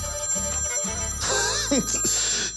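A mobile phone rings with a bright, repeating melodic tone, loud and close, with some low background sound before the ringing starts.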